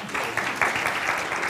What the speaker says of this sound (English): I'd like you all to give him a nice round of applause.